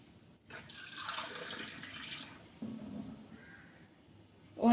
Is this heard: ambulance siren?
no